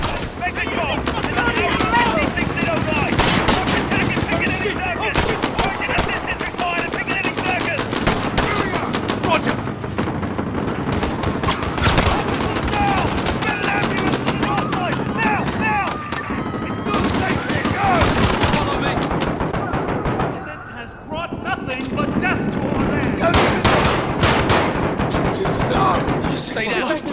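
Dense, continuous gunfire in Call of Duty: Modern Warfare (2019), rapid bursts and single shots stacked close together with explosions, loud throughout under shouted voices and game dialogue, dipping briefly near the end.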